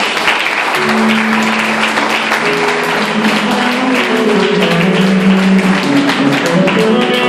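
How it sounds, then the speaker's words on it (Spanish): A church congregation claps loudly and continuously for several seconds during a sermon while sustained musical tones play underneath. "Dale un aplauso a Cristo"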